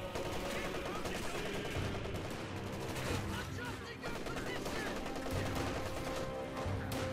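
Machine gun fire in the World War II strategy game Company of Heroes 2: dense rapid bursts of gunshots over a busy battle soundscape with other explosions and weapon noise, loud and continuous.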